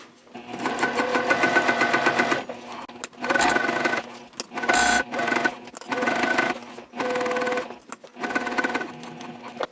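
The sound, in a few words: sewing machine backstitching and topstitching a sling lining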